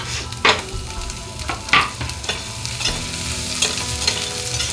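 Carrots and capsicum sautéing in a pan for fried rice sizzle steadily, broken by several sharp scraping clatters of a stirring spatula, close and with no voices.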